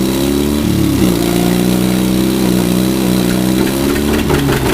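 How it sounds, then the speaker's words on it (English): The big engine of a John Deere R tractor catches and runs with a steady, loud, throbbing drone close by, its pitch shifting slightly just after it starts. "Watch the wheel on the side to start the big engine"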